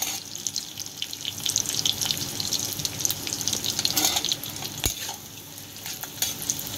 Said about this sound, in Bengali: চলো পেঁয়াজটা হালকা লাল লাল ভাজা করি, বেশি ভাজা করবো না, হালকা করে।